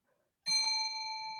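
A single bell ding rings out sharply after a moment of near silence, its bright sustained tone ringing on steadily as it slowly fades, with faint low rustling underneath.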